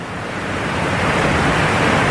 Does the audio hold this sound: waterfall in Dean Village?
yes